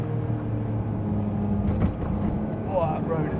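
A Noble M12 GTO3R drives on the road, its engine a steady low drone heard from inside the cabin while someone talks over it.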